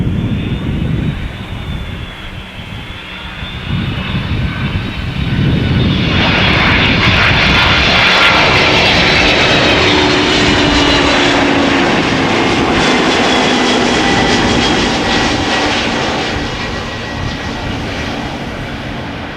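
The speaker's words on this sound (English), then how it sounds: "Duffy, what runway is the Martin Air Cargo lining up for on center or polder?" Martinair Cargo jet engines at an airport, lined up on the Polder runway: a loud, steady roar swells sharply after a few seconds into a sustained, powerful rumble that holds near and full before easing slightly.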